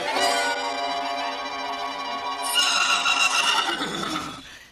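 A white horse gives a long, loud whinny that rises and wavers before trailing off, close up with no one speaking.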